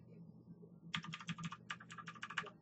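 Typing on a computer keyboard, a quick run of close, crisp key clicks in two short bursts after a brief quiet start.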